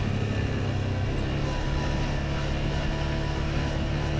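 A CFORCE 520 ATV engine running while driving, a steady low droning hum with constant rumble, evenly loud and close, with no clear changes in pitch.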